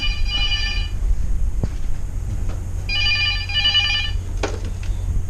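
A telephone aboard a ship rings in two long electronic trills separated by a pause, over a steady low engine hum, with a faint clunk between rings.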